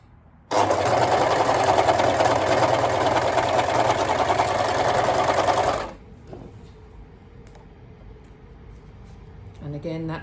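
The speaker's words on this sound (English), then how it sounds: "I'm just going to do the overlocker now." An overlocker serger stitches fabric loudly and steadily for about five seconds, with a dense mechanical whirr and rapid needle chatter, then stops abruptly, leaving quiet room tone and a faint click near the end.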